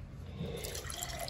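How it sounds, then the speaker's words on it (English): Water pours and splashes with a soft trickling, dripping texture, faint and close, lasting only a moment with no talking. "I'm gonna pour this water as my task."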